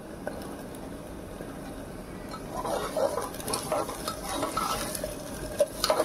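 Onions fry in a pan as tomato goes in, with quiet background sizzle and a run of soft scraping stirs and light clinks growing busier toward the end; no voices.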